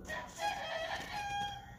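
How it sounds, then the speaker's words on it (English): A rooster crows in mid-afternoon, its drawn-out call carrying at moderate distance and filling the short stretch alone without any talk. "This rooster's just going off."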